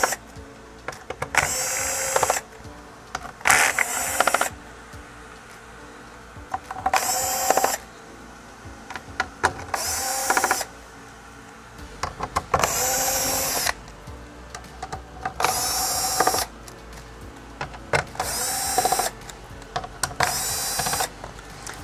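A power screwdriver backs screws out of a Samsung PN64F8500 plasma TV Y-sustain circuit board, with about nine short whirring bursts separated by quiet pauses and small handling clicks.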